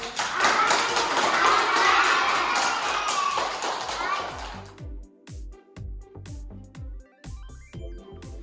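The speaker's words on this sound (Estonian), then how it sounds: "Aga te olite täna tublid ja tehke endale aplaus" A kindergarten class of children claps for themselves, a dense burst of small hands for about four and a half seconds that then gives way to sparse taps and thumps in a quieter room.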